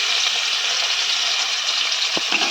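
Crushed small shallots sizzle in hot oil in a pan, a steady, dense hiss that holds at an even level throughout, with a brief knock near the end.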